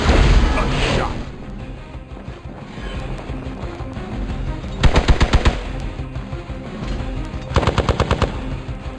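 Rapid gunfire bursts in Marvel's Midnight Suns, a superhero tactics game, with two sharp machine-gun-like volleys cutting through dense battle noise and music, loud and close, alongside game voices.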